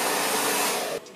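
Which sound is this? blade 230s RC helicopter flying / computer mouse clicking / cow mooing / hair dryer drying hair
hair dryer drying hair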